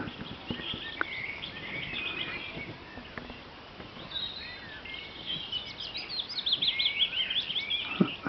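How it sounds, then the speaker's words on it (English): A willow warbler sings in a quiet corner near an old steam train repair workshop and slag heap, its high, descending warbled phrases coming mostly in the second half over a soft background with other faint bird calls. "that's a willow warbler"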